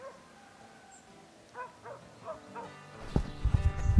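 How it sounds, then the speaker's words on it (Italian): Hunting dogs on a hare hunt in woodland let out distant howls and yelping barks in a short series, then a closer burst of rustling and louder noise takes over at the end. "credo che si siano sentite i cani in seguita"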